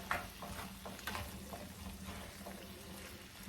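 Beans frying in a pan with added paste and garlic give off a steady low sizzle and bubbling, with occasional stirring scrapes and clinks close by, no voices.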